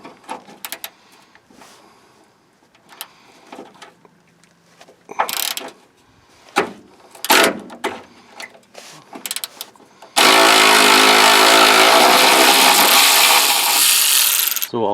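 Bolts on a Nissan Titan transmission mount are worked loose with a socket wrench: scattered metallic ratchet clicks and clanks, then a long, loud, steady burst of power-tool whirring fills the last few seconds.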